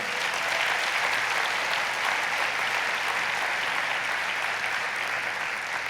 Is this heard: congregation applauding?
yes